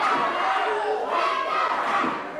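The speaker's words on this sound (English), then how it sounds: "Crowd here at PWX has been solidly behind Matt TRK Silks" Crowd at a PWX professional wrestling event cheering and shouting in a sustained, loud roar that swells and dips slightly, with no single voice standing out.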